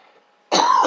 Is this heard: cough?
yes